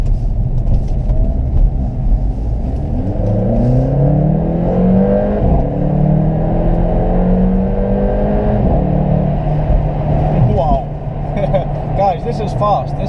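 A Mercedes CLA45 AMG at full throttle, its engine note climbing through rising sweeps with gear changes, loud and close from inside the cabin, with a person talking over the roar.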